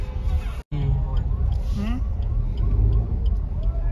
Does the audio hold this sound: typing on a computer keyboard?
no